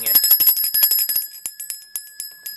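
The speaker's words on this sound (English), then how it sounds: "End scene. Liberty Bell." A small bell rings in a rapid flurry of bright metallic strikes that gradually slows and thins out, leaving a lingering high ring.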